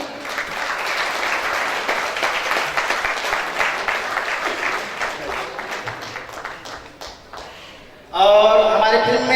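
Sustained applause from an audience greeting an actor at a film launch and muhurat shot event, steady clapping for about eight seconds before a louder burst of cheering or music takes over at the end.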